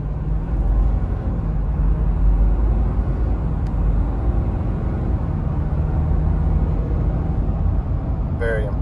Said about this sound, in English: I'll give y'all about a half throttle acceleration.